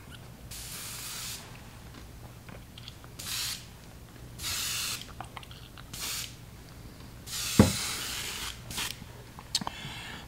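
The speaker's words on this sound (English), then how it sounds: "I'll rinse the airbrush out real quick." Airbrush being rinsed out, giving several short bursts of hissing spray at close range, separated by brief pauses and a sharp click.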